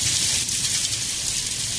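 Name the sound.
rain falling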